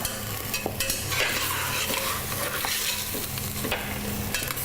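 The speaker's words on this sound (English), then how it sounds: "So now we added some wine in to deglaze it." Wine hitting a hot pot to deglaze it, giving a loud, continuous hiss and bubbling sizzle with scraping stirs throughout, close and steady.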